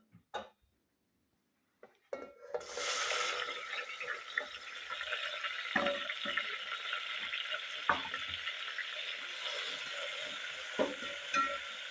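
Tomatoes with turmeric and masala are stirred and sautéed in a hot pan for a tur-bean khichdi, a steady broadband sizzle starting after a couple of quiet seconds, with occasional spoon scrapes and knocks throughout.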